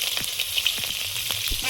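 Nigella seeds and slit green chillies frying in hot oil, a brief bright sizzle with quick crackling pops, close and steady.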